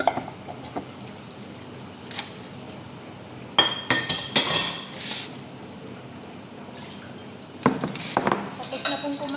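Plates and dishes being washed by hand give scattered clinks and clatters of ceramic and cutlery, with bursts of louder rattling and soft watery sounds between quieter pauses.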